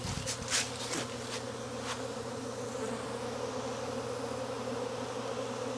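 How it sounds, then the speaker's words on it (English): A honeybee swarm pours out of an observation hive in Jacksonville, Florida, making a dense, steady buzzing hum with no voices. A few sharper buzzes from passing bees stand out near the start. "I never would have imagined catching the swarm in action"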